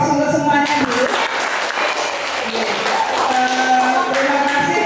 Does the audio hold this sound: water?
no